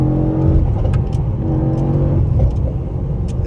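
A Mercedes-AMG GT63S engine revs loudly up close, the exhaust rumbling and burbling through a few rises and falls with crackling pops, heard from inside the car while driving at night.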